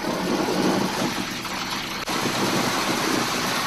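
Four Curtiss-Wright Cyclone 9 radial engines of 1,200 horsepower each on a B-17 bomber give a loud, unbroken, broadband roar heard from inside the aircraft, steady throughout with one brief dip.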